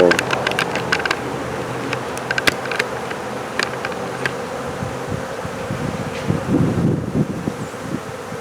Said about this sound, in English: this is a big cloud of bees moving in